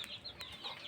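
Chickens at a poultry farm give a few quick, faint clucks in a brief burst, with no talk over them.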